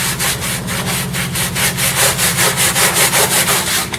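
Rhythmic back-and-forth scrubbing of a tool across car carpet upholstery, steady repeated strokes close to the ear with no talking.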